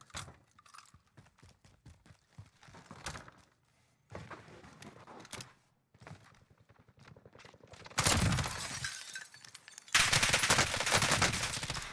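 Custom well gun fired in Warzone, a solo battle royale match: loud bursts of rapid automatic gunfire, with sparse clicks and thuds earlier and two dense, heavy volleys near the end.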